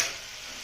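Ginger garlic paste frying in oil in a pan for fish fry, a brief steady hiss of close sizzling that softens slightly after an initial burst.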